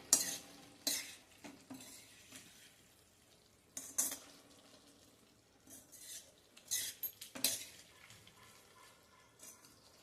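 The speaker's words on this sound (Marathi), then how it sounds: "यामध्ये मी हे मटार आणि स्वीटकॉर्न घालते." Boiled peas and sweet corn are tipped into a pot of bisi bele bhath, with a spoon scraping and clinking against the metal and a soft sizzle underneath; the sounds come in short, fairly quiet bursts.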